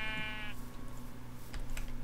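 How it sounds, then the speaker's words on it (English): A sheep in a SimCraft video game gives one short bleat at the start, followed by soft clicks and low background hum. "Come on, sheep, give me your wool."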